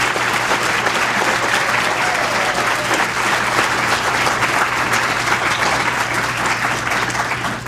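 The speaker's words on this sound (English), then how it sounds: "you deserve a round of applause" Warm applause from an audience at a mayor's public event, a loud continuous wash of clapping filling the room and holding steady throughout before easing slightly at the end.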